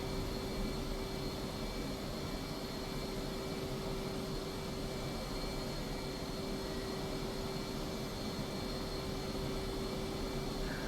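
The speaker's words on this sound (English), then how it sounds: "So we're going to taxi out to the runway." F/A-18C Hornet jet taxiing in the DCS flight simulator, a steady loud engine whine with a constant hum running unbroken throughout, no talk.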